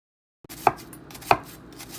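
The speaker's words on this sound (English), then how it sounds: "Go ahead and get started chopping your onion." Knife chopping an onion on a cutting board, three crisp, evenly spaced cuts, close and clear after a brief silence, with no talking.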